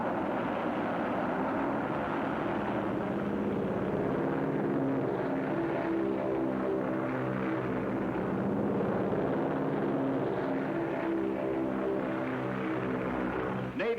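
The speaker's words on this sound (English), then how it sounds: "Navy planes roared from the decks of our carriers" A steady, loud droning roar of navy propeller aircraft engines at the Battle of Midway, continuous throughout with a throbbing low hum and no voices.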